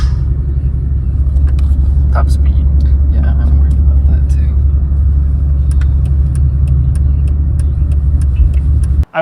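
A BMW E46 accelerates uphill at full throttle, its engine producing a loud, sustained low rumble heard from inside the car, with a person talking over it.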